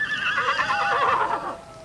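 A horse lets out a loud, close whinny that wavers up and down for nearly two seconds, with faint background noise behind it.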